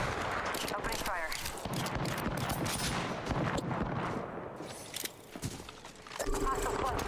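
Apex Legends gunfire crackles in rapid, dense bursts through a busy in-game mix, mid-level and continuous, with a brief lull before the firing picks up again.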